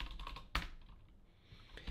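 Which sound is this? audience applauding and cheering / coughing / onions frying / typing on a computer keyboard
typing on a computer keyboard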